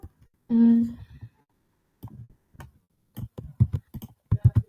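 Code being typed on a computer keyboard, with a short hum at the start and then scattered bursts of key clicks that get denser toward the end, close and crisp against an otherwise quiet room.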